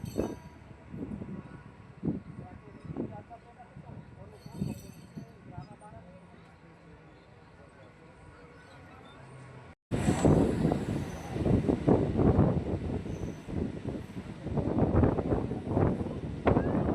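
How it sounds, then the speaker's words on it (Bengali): Local train on the Naihati to Majerhat line pulling into Titagarh station, with a steady rumble and clattering under wind buffeting; it grows louder and busier in the second half, with voices talking over it. "আমাদের ট্রেন এসে পৌঁছালো টিটাগড় স্টেশন।"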